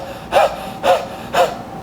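A man imitates panicked stress breathing with three quick, sharp gasping inhales spaced about half a second apart, loud and close.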